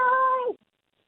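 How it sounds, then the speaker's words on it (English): A pet cat lets out a single close, drawn-out meow that ends abruptly, followed by near silence. "Is that the cat? That's the cat"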